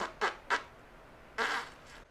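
A person imitates fart sounds with the mouth: two short sputtering bursts in quick succession, then a longer, drawn-out raspberry, close and moderately loud with no other sound.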